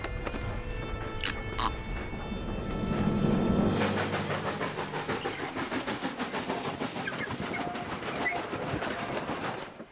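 A moving train rolls along with steady clickety-clack from wheels on the rail joints, a loud continuous rumble that builds and keeps a regular rhythm, with no talking over it.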